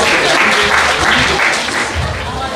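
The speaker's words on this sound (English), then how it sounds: "So give A1 a round of applause." A crowd at a Women's Day celebration applauds steadily, a dense wash of clapping that holds for a couple of seconds and tapers slightly near the end.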